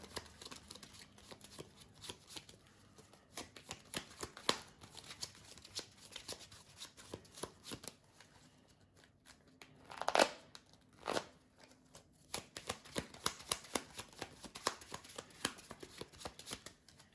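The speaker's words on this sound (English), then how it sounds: "shuffling the counter deck really quick" Cards from a Marvel Champions card game encounter deck being shuffled repeatedly, soft riffling and flapping bursts with a few sharper snaps, close and quiet.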